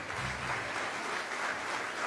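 Steady applause from a concert audience after a traditional Madeiran string instrument performance, a dense wash of clapping that holds at an even level for about two seconds without pause.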